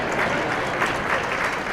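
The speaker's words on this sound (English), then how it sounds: "they deserve applause" An audience at an economic development brand launch event claps in a short, steady burst of dense, close applause.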